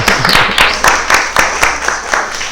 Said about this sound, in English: let us give applause again